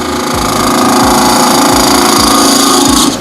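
A spindle gouge cuts into a spinning burl and epoxy resin blank on a wood lathe, giving a loud, steady whir with rhythmic chattering knocks that carries on alone until it cuts off near the end.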